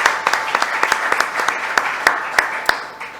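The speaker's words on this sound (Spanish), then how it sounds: "Muchas gracias. Un aplauso." An audience at a poetry lecture gives brief applause, a loose patter of individual claps with distinct sharp hits, fairly close and thinning out toward the end.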